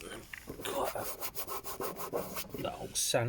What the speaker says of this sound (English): these marks sand out with wet and dry